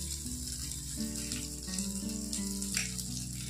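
Rava-coated fish frying on a tawa as oil goes in, giving a steady close sizzle with a faint tonal hum running beneath it.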